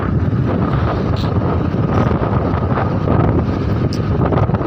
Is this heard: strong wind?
yes